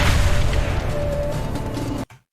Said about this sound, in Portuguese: Parece ser bem satisfatório o ataque ao navio, as explosões, o impacto das balas